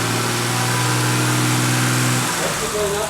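A written-off BMW 330i engine running with its mass airflow meter disconnected gives a loud, steady, close engine drone that shifts in tone near the end rather than clearly climbing in revs.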